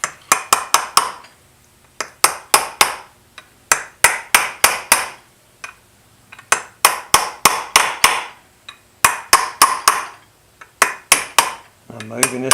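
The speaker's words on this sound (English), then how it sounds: "I'm going to use a very small ball peen hammer, and I'm going to hit on this inner race." Small ball peen hammer lightly tapping a bearing inner race on a John Deere 790 MFWD tractor: crisp metallic clinks in quick clusters of four to six strikes separated by short pauses, close and clear with no talk.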